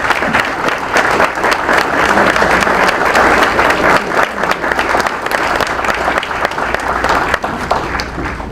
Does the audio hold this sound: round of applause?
yes